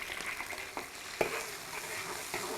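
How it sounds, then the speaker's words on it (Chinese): Sliced onion and garlic sizzle in hot oil in a wok while being stirred, a steady close frying hiss broken by a few scraping stirs and a brief clink. "把洋葱和蒜片爆香"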